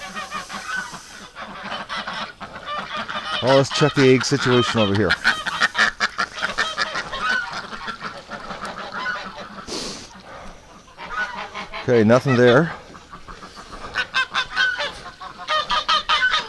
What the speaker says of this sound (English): I think that's the noise that's bringing the Canada geese in.